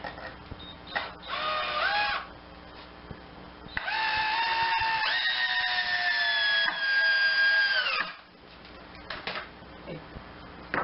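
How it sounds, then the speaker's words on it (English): A power driver drives screws into scrap wood pieces while a pick-up truck cap is being removed. Its motor whines in two close bursts: a short one, then a longer, steady run whose pitch shifts near the end before it stops. "And I'm just going to put a couple screws in here."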